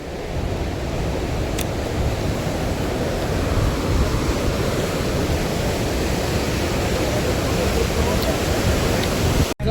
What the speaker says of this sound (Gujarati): પવન એકદમ વધી ગયો જો